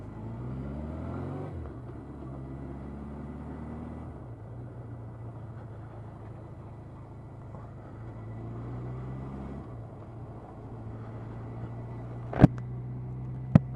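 A Suzuki GS 1000 motorcycle engine drones steadily while riding, its pitch rising and falling through gear changes under constant wind roar, ending with two sharp clicks.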